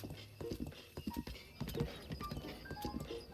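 Horse hooves clip-clop in Breath of the Wild as the rider approaches a stable in the foothills, a steady run of hoof strikes close by with no talking.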